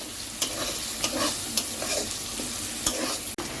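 Ridge gourd pieces stirred in a hot pan over a steady sizzle, with a spatula scraping and clicking against the pan every half second or so; close and fairly loud, no talking.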